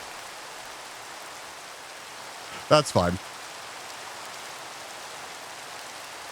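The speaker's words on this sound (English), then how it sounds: "you can hear the Minecraft rain" Steady Minecraft rain in the video game, a soft even hiss that runs through the whole stretch, with a brief spoken remark near the middle over it.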